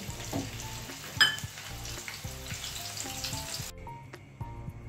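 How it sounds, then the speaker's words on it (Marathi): Green chilli pieces fry in hot oil in a pan, giving a close, steady sizzle with scattered clinks and scrapes of stirring, and the hiss drops away near the end, with no talking. "आता शेवटी हिरव्या मिरचीचे तुकडे घालूयात आणि गॅस बंद करूयात।"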